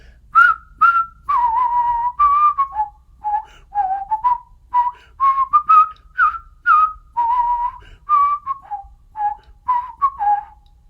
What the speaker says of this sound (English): I'm going to whistle it, and you just put up with me and count the measures